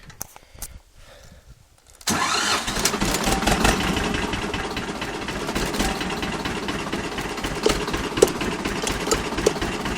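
A Vladimirets tractor on a farm cranks and catches after two seconds of near quiet, then settles into a loud, steady diesel idle close by.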